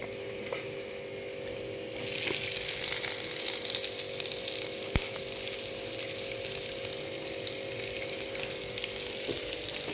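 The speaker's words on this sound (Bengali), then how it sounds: "এরপরে আমি দেবো এতে আমার যে কেটে রাখা যে পাতলা পাতলা করে পেঁয়াজ," Thinly sliced onions hit a pan where garlic has already browned, setting off a loud, steady sizzle. It starts about two seconds in and carries on without a break to the end, with no talk.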